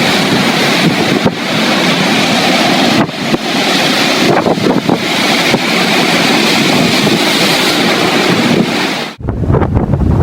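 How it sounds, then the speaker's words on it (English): Hurricane-force wind roars continuously over crashing surf along the European coastline, a dense, loud, unbroken rush with gusting surges, cutting off abruptly near the end. "A terrible hurricane swept in from Greenland, turning the European coastline into a massive water park."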